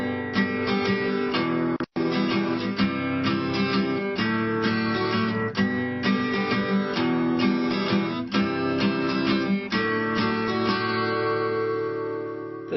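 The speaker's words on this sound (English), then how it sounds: "And of course, we can syncopate in 3/4 time as well" An acoustic guitar strums a syncopated pattern in 3/4 time, with off-beat chord strokes between the main beats. The playing is continuous and close, with one brief gap early on.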